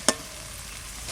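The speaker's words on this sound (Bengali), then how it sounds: "মটরশুঁটিটাও একটু ভেজে নেব।" Green peas frying in a pan make a soft continuous sizzle, with one sharp click near the start of this very short moment.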